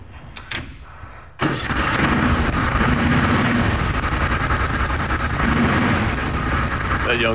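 A race car engine, a Mustang brought in for an autoracing feature, starts up and runs loud and steady for several seconds after a brief quiet moment.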